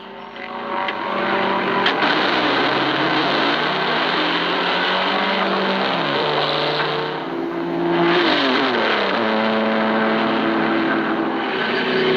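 The Talbot Lago race car number 11 pulls away from the pits at Le Mans in 1954, its engine revving hard and climbing through the gears. The roar stays loud and close, dips briefly and then surges again.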